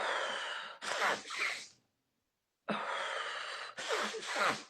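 Deep breathing exercise done close to the mic: a long, loud breath followed by a gusty release, a second of held silence, then the same big inhale and exhale cycle repeated.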